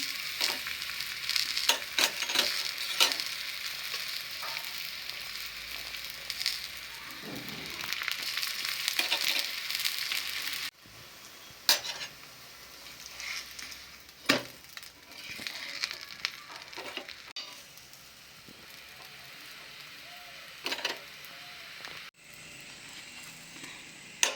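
Bajri masala paratha, a pearl millet flatbread, sizzles in oil on a griddle with a steady hiss. The sound drops and returns as the bread is flipped to fry on both sides, with occasional scraping taps.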